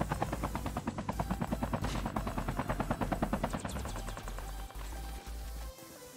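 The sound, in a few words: helicopter in Call of Duty Mobile video game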